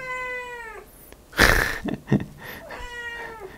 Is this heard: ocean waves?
no